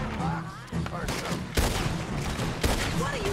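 Gunfire in Red Dead Redemption 2 is fired while running: a rapid string of sharp cracks with several heavier blasts, close and loud, alongside speaking voices.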